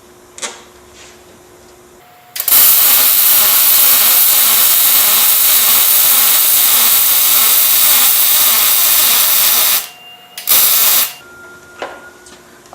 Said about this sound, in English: So, we'll just get her welded now.